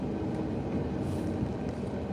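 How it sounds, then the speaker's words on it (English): A train passes by with a loud, steady, low rumble that holds for the whole moment, with no voices over it. "the train comes."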